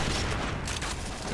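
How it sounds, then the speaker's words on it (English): Paintball markers fire during the 2016 PBWC final match between 2Kill of Brazil and Signature PB of Thailand, a dense crackle of rapid overlapping shots in the distance. "There's a lot of gunfire being passed around."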